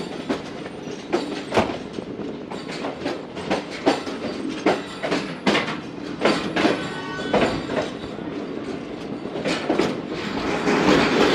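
The 42Dn Karakoram Express rolls along the tracks between Faisalabad and Khanewal, its wheels beating out a loud, rhythmic clickety-clack over the rail joints beneath a steady rumble that swells toward the end.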